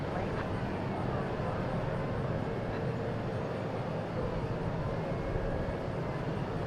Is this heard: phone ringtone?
no